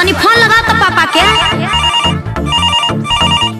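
A phone rings loudly and repeatedly during a call in a Bhojpuri song scene. The rings are a bright, pulsing electronic ringtone that carries on without break over a musical backing.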